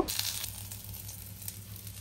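Taki fish nearly done frying in oil, a dense, continuous crackling sizzle that stays close and fairly loud throughout the short stretch, with no talking.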